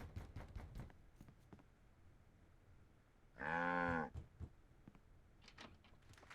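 A cartoon cow moos loudly once in the Sam and Max adventure game, a single drawn-out bellow of about a second rising above quieter background sounds.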